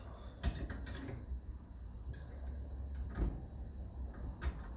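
A seized nut on a 1954 Ferguson 20 TEF diesel tractor being worked loose, with creaking metal strain and a few sharp clicks and knocks over a steady low rumble.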